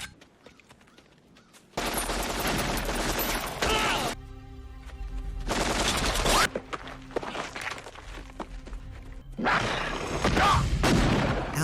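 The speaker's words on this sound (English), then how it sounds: "The inevitable gunfight ensues, turning into a hide-and-seek within the junkyard." A film gunfight in a junkyard brings loud sustained bursts of rapid gunfire, with quieter stretches between volleys where a low tone hangs.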